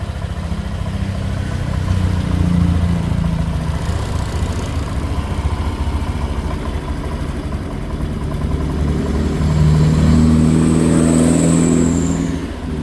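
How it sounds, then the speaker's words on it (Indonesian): A Honda Beat motorcycle engine idles after a rebuild, a steady mid-pitched putter running continuously and close, with a slight rise in engine tone toward the end. "Motor sudah hidup."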